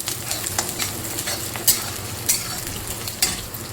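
Okra frying to golden in a pan, giving a steady close sizzle with brief scraping stir strokes and small spatula knocks spread through.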